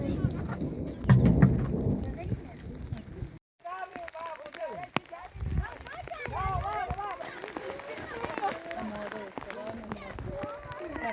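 A heavy downpour with rumbling thunder hits a rural spot where sheep and baby goats shelter. Dense rain hiss and deep booms briefly cut out, then return under busy chirping or bleating calls.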